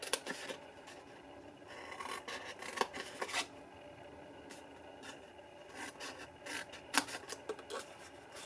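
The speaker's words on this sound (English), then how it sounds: "so trim off these parts here and cut all of these on the straight." Scissors trim patterned designer paper on a craft table, producing close, quiet scraping and snipping with several sharper cuts scattered through steady rasping.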